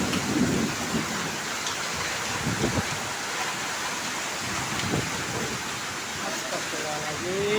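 A hailstorm in Pamulang drums steadily on surfaces with dense, roaring rain-like hiss, while deep rumbles of thunder roll underneath and people talk briefly in the background.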